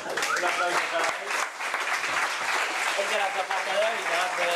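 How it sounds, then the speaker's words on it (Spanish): A full audience at a triathlon talk claps loudly and continuously for the speaker, while voices talk over the steady applause. "Un aplauso para ti."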